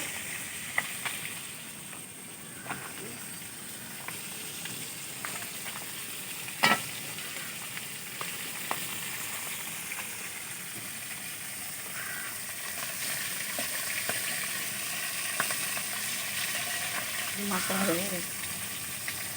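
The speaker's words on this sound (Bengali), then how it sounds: "মাছ ভাজা হয়ে গেছে তো" Fish fries in oil over a riverside cooking fire, a faint continuous sizzle with occasional light clinks and scrapes, while a voice speaks briefly near the end.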